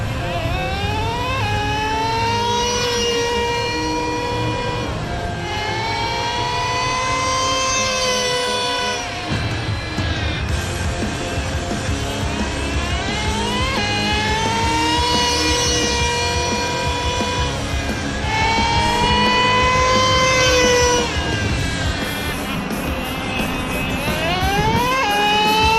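A Traxxas Revo 3.3 nitro RC truck engine screams close and loud throughout, its high-pitched whine rising and falling repeatedly as it revs and shifts through two speeds.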